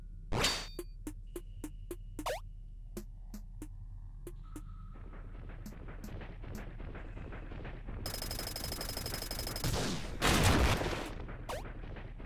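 Repeated gunshots from bullets fired in the side-scrolling game Iconoclasts, sharp cracks scattered irregularly over a steady game soundtrack, with a burst of louder, denser firing near the end.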